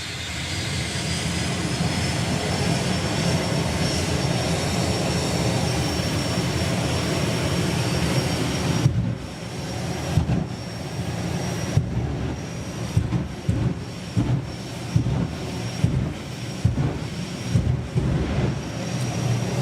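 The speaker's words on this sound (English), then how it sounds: "it is a Rolls-Royce Viper 535 jet on the back of Oklahoma Willie, the pickup truck" A Rolls-Royce Viper 535 jet engine mounted on the Oklahoma Willie pickup truck roars steadily at a drag racing event, then breaks into a series of sharp, bursting pulses from the flame show over a continuous loud rumble.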